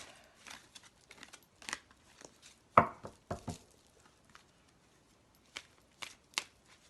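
Large, thick tarot cards being shuffled by hand in quiet bursts of papery riffles and soft slaps, close up, with a sharper snap near the middle and scattered lighter flicks; no talking.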